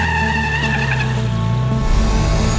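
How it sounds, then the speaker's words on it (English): A Volvo Iron Knight racing truck approaches at speed, its deep engine roar loud and steady with rising harmonic tones and a brief tire-squeal-like edge. "Here in the background, our truck's coming"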